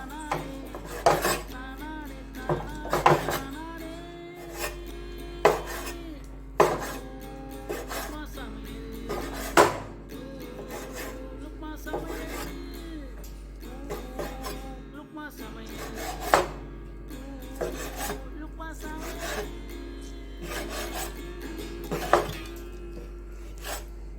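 A knife chops goat intestine finely on a board in a kitchen, with repeated sharp taps in irregular bursts over a steady low hum, close and moderately loud with no talk.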